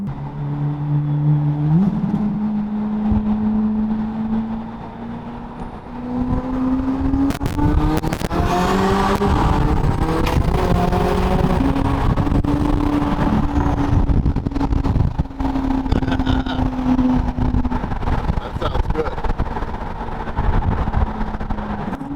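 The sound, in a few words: custom SEMA build car engine running and revving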